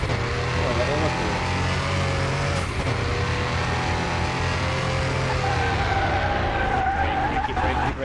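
A Porsche skids under braking in the video game Car Mechanic Simulator 2021, a long loud tire squeal over a droning engine that shifts pitch as it slows, with a voice talking over it.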